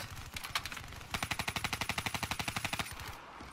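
Rapid machine gun fire in the game Call of Duty Black Ops III, a short opening burst followed by a long, fast, evenly spaced string of loud rattling shots that stops abruptly.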